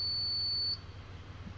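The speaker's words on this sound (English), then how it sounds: "the intermittent beep is telling you you've got control" A high, piercing electronic beep from a Toyota ramp's backup battery control sounds for under a second, cuts off, then starts again: an intermittent alarm-like tone over a low hum.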